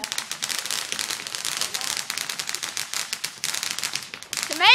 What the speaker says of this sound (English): Here comes the next firework.